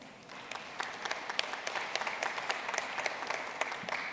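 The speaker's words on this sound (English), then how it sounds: "We can applaud for that." Applause from a doctoral commencement audience, moderately loud dense clapping starting after a brief quiet moment and continuing steadily throughout, with sharp individual claps standing out from the crowd.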